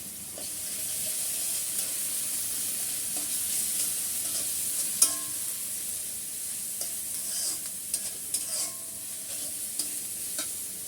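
Onion sizzling in a pan with a spoonful of ginger-garlic paste, stirred now and then, giving a steady close frying hiss with occasional soft scraping clicks and no voices.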